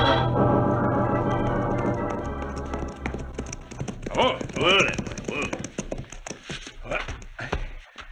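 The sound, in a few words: horses' hooves clip-clopping, radio drama sound effect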